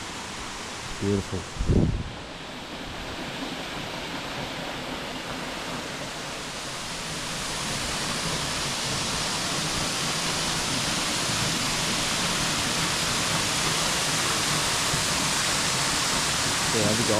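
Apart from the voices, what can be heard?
Russell Falls waterfall cascading, Mount Field National Park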